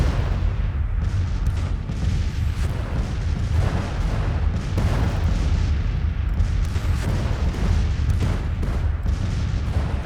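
Artillery and gunfire roar without pause through a battle in Grand Tactician: The Civil War, a dense, continuous rumble of booms and crackling shots close and loud throughout, with no voices.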